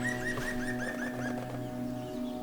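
Green and great spotted woodpeckers call in a forest, with a quick run of repeated calls at a steady rhythm over a constant background hum.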